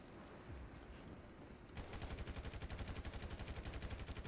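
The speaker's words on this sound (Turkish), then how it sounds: "Eyvah burayı tarıyor" Rapid automatic gunfire strafes a building in GTA 5, starting abruptly after a quieter stretch and continuing as a steady, fast rattle of shots to the end.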